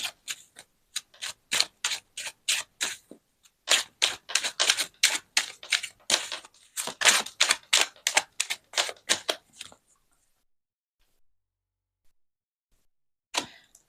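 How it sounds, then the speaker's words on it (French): Tarot cards being shuffled and drawn: a rapid run of crisp, close card flicks and snaps in bursts, then a long quiet pause and one last sharp snap. "je tire le tarot pour avoir plus de messages"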